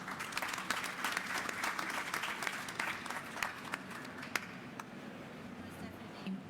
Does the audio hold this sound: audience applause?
yes